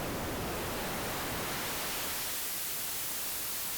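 Broadband hiss from an Arturia Pigments 3 analog-engine synthesizer patch swamps the original tone, leaving a steady, fairly quiet wash of noise that thins slightly toward the end.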